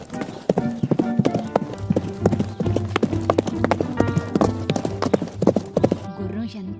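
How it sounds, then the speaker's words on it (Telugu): Horse hooves clip-clop in a rapid, steady galloping rhythm within a children's animated story, loud and close, with a brief whinny mixed in and background music underneath. "దాంతో మరింత వేగంగా పరిగెత్తింది గుర్రం"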